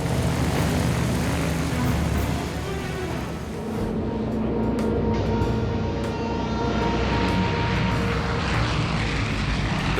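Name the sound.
C-46 cargo plane engines in flight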